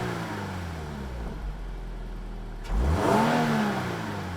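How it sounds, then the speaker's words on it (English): Stock-exhaust Subaru BRZ/GR86 idles quietly, then takes one light throttle blip that swells and falls back, heard close up. "Here's how the stock exhaust sounds with some light revs."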